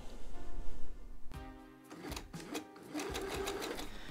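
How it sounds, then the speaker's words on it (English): Sewing machine zigzag stitching a knit T-shirt neckband in the round, its rapid motor whir running steadily and close, with a brief pause and clunk before stitching resumes. "I'm going to sew in the round with a zigzag stitch"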